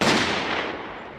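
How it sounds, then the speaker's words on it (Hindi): A single loud gunshot sound effect in a narrated story of a chase along the Rajasthan desert border, a sharp burst trailing off into a broad noisy decay. "पीछे से एक गोली चलने की आवाज सुनाई देती है"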